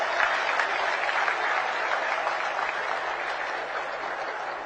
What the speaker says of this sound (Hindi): एक बार जोर से इनके अभिनंदन में तालियां बजाएंगे।